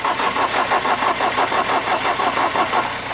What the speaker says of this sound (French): Donner les premiers coups de démarreur.